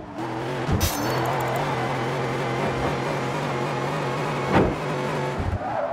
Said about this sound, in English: there's a notable engine audio issue on the PC version that sounds like this.